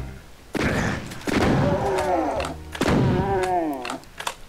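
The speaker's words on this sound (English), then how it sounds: "I will demonstrate to you the power of the super shotgun" Super shotgun blasts in the first-person shooter Doom II on Map02, Underhalls: three heavy, booming shots spaced about a second apart, each followed by ringing game noise and monster cries.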